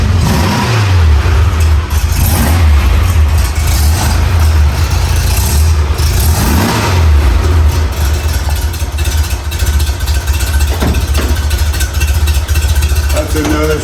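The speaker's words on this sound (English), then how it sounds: "That's another start from just a completely cold car until I just started it today." A cold 1962 Porsche 356 S 90 engine starts and keeps running, a loud continuous low rumble with rising revs near the start and again around the middle.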